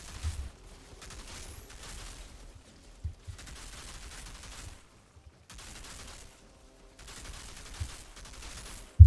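Gunfire in the shooter game Outriders comes in quiet bursts of rapid shots separated by short pauses, with a few louder thumps, all fairly faint and without talk.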